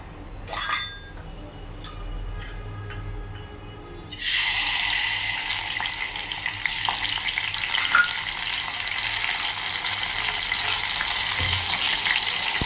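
Ginger-garlic paste dropped into hot oil for a pomfret curry sets off a sudden loud, steady sizzle after a few seconds of quieter clinking, continuing close and unbroken with no voices.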